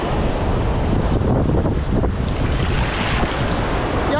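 Steady roar of ocean surf at Playa El Cuco, El Salvador, with wind buffeting the microphone, continuous and loud throughout, no voices.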